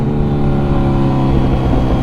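A motorcycle engine revs loud and close with a steady, dense growl and slight surges, and no one speaks.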